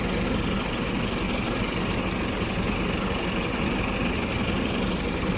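A tractor engine idles steadily and loudly on farmland just levelled, a constant low heavy rumble with a faint knocking throb running unbroken throughout.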